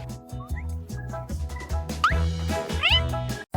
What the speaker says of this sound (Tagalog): Ang cute na kuting!